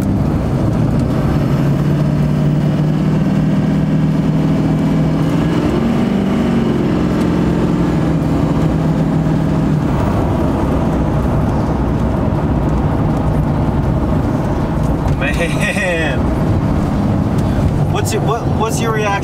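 A stanced Duramax diesel pickup truck engine idles and runs with a continuous low, rough rumble, loud and close, rising slightly midway, with brief clatter near the end.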